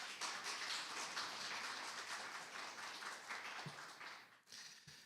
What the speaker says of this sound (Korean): 뜨거운 박수 다시 한번 부탁드리겠습니다